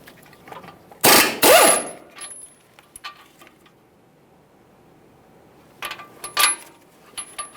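A 21mm CV axle mounting bolt on a 2015-2020 Ford F-150 3.5L V6 is removed with two loud bursts of rapid impact-wrench rattling, separated by light metallic clinks of the bolt and tools.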